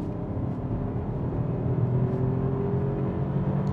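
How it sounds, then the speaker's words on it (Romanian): A 2024 BMW X2 mild hybrid engine hums and slowly rises in pitch as it accelerates from 60 km/h, steady and fairly quiet, with no talking. "Am 60 la oră și am accelerat."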